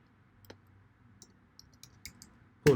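Sparse, faint keystrokes on a computer keyboard as a git command is typed in a quiet room, a handful of irregular soft clicks ending with one louder tap.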